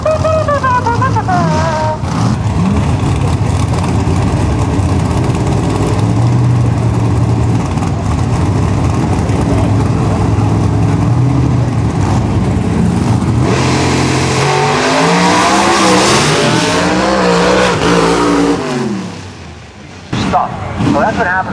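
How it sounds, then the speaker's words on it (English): Pro mod drag race cars at a Cecil qualifying round roar and rev loudly, one launching with tire shake that makes the engine note waver and stutter, heard near and continuous with an announcer's voice partly over it. "So that's what happens when you get tire shake."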